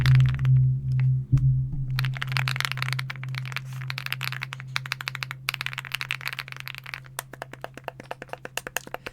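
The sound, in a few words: mechanical keyboard switches clicking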